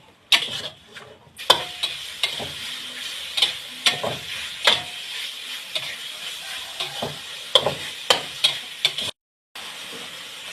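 Pork, shrimp and squid stir-fry with holy basil in a hot pan. A steady sizzle runs under repeated scraping and clanking strokes of a spatula. The frying briefly drops out near the end.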